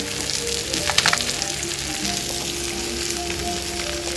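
Fish sizzles steadily as it fries in oil in a pan, a constant close crackle with a brief clatter of utensil noise near the start.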